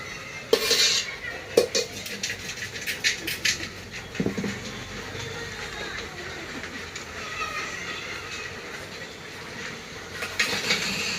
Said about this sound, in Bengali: এখন সাইড থেকে দেখতেছেন কীভাবে মিক্স করা হচ্ছে। এইভাবে মিক্স করা হয় বিরিয়ানি।